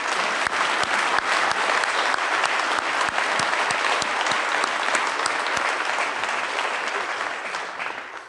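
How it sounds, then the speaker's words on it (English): An audience at an annual community foundation meeting claps for its trustees and volunteers, dense sustained applause filling the room before slowly tapering off. "would you please join me in a round of applause for our trustees and all of our volunteers"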